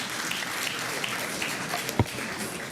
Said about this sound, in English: There is no clapping of hands in Parliament.